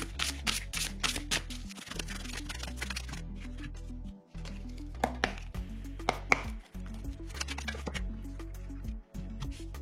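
Oracle cards being shuffled by hand, a steady run of quick soft flicks and riffles with brief pauses, close and alone over faint background music.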